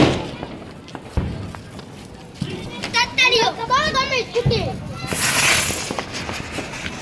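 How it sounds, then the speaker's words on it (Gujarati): Diwali firecrackers bursting outdoors: a few sharp, loud cracks and thuds at irregular intervals, with children shouting and talking excitedly over and between the bangs, plus a hissing, crackling burst near the end. "આ વિવેકભાઈ છે ને મસ્ત મસ્ત ફટાકડા ફોડે છે તમે જોઈ શકો"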